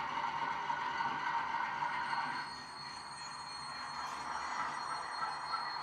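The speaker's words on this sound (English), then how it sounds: "we'll get this train running for you very, very quickly" A sound-fitted model diesel locomotive starts to run, its steady engine drone and electronic hum continuous and moderately loud, dipping briefly before settling again, with no talking.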